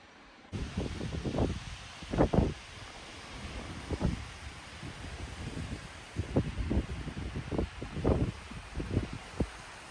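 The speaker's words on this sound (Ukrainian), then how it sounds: "гримить сильний вітер і зривається дощик" Gusty wind buffets the microphone in uneven bursts on an Alpine walk, with light rain starting, a constant hiss underneath and rustling noise between gusts.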